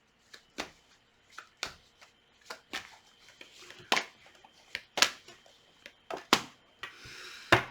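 Tarot cards shuffled by hand in irregular bursts, sharp riffling flicks and soft slaps that stop and start across several seconds, close and fairly quiet with no voices.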